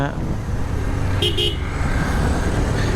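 Two quick car horn toots sound close together amid continuous traffic rumble.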